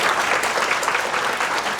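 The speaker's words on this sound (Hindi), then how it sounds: "अब तो ताली बजा दीजिए ढंग से" An audience claps in a steady, dense burst of applause, close and even throughout, with no talking over it.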